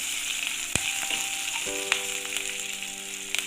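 Ginger and green chillies frying in hot oil in a pan, a bright crackling sizzle with a few sharp utensil clinks and a brief tonal ring, no speech.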